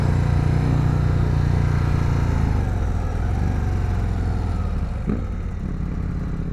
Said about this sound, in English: First ride on my Harley-Davidson CVO Road Glide ST.